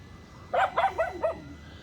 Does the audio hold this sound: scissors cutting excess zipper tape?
no